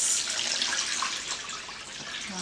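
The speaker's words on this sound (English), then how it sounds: "next we're gonna add some boiling water to the mix." Boiling water poured into a bowl of jello mix, a steady close splashing stream that runs continuously and eases slightly toward the end.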